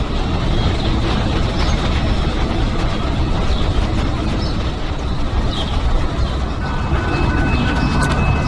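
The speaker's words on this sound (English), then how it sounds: "This is our outbound Metra." An outbound Metra commuter train rolls through Stone Avenue Station in LaGrange, Illinois, a loud, continuous rumble and rail roar up close with faint squeals, no clear speech.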